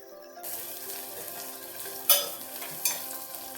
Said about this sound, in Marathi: बारीक गॅसवर थोडा भाजून घेऊया